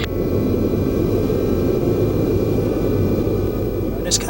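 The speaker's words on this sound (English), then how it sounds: "the final B-52 was preparing for departure" A B-52 bomber idles before takeoff, its jet engines a loud, steady low roar that fills the whole stretch. A brief higher burst comes near the end.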